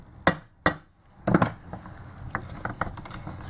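A stuck Phillips screw on a Mitsubishi alternator is struck with a few taps: two sharp, separated metallic knocks, then a louder cluster of hits, followed by softer scattered tool clicks and rattles close by.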